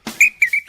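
A little red whistle blown in short sharp toots, four or five quick high blasts in a row, close and loud with no talking over them.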